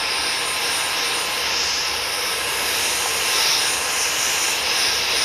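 A Dyson Micro 1.5kg cordless vacuum fitted with its multi-purpose crevice tool dusting brush runs continuously, a steady high-pitched whirring whine with airy suction hiss, fairly close and even in level, with no talking.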